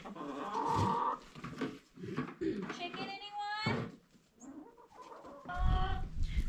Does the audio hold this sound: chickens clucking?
yes